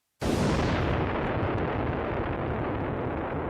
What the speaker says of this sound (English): It's a random explosion.